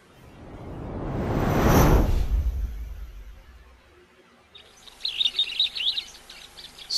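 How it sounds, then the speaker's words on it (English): Wild birds call at a waterhole, a run of bright, rapid chirps coming in during the second half after a broad rising and fading whoosh of wind or movement, moderately near and with no voices over them. "At least we have some lovely bird calls in the interim."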